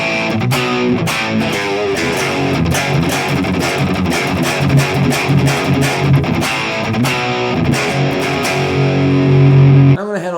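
Dense, gritty distorted electric guitar through a Valeton GP-200X modeler on a Distortion Plus setting, playing steadily for about ten seconds, loud and close, with a sustained chord ringing at the end before cutting off.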